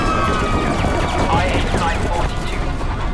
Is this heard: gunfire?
yes